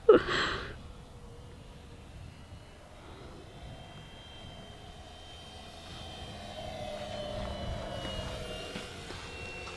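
A very large RC glider, an Arrows SZD-54, whooshes through the wind, a faint steady airy rush that swells slightly toward the end after a brief bump at the start.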